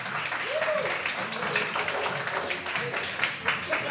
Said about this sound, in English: Amazing applause.